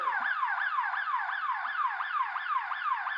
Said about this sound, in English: I set off the siren.